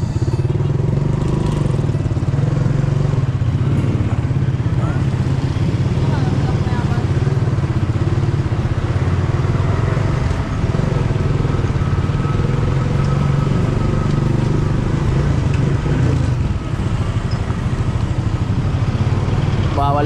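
A motorcycle engine drones loud and continuous, steady and close, with no clear speech over it.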